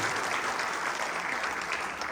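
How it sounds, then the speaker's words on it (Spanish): Steady, dense audience applause after a keynote lecture at an education conference, sustained evenly at moderate volume across the whole stretch. "Brindemos nuevamente un fuerte aplauso a la doctora Mariela"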